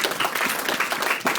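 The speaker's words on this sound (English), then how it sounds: "Big round of applause for them." Applause from wedding guests honouring the lodge staff at a reception, a dense burst of clapping that fills the whole moment up close and loud.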